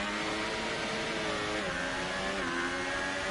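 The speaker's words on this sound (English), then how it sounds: "Revving very high in the traction zone there" A Formula 1 race car in the F1 2018 video game, racing at the Chinese Grand Prix, revs high in a sustained, loud engine whine with rising and falling pitch, heard alone.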